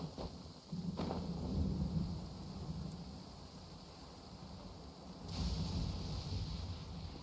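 Rain and thunder in the Genshin Impact video game: a steady hiss of rainfall with low rolling thunder swelling and fading twice, loud and enveloping, no speech.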